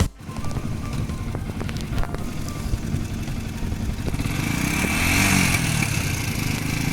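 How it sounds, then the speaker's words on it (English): A Yamaha YZF-R125 motorcycle engine runs close by with a dense, steady roar, broken by a few sharp cracks early on, then swelling louder in the last seconds, with exhaust popping. "It pops! My bike pops!"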